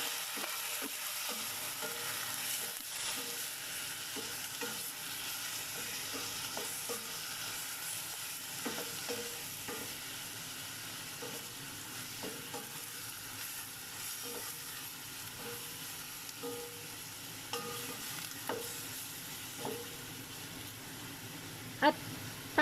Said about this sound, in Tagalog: At i-mix naman natin ang ating meat, chicken.